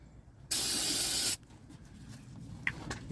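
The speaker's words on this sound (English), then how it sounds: "I can spray some starting fluid in the gap" A short, loud hissing burst of starting fluid sprayed from an aerosol can into an engine gap, lasting under a second, then quiet with a few small clicks and handling sounds.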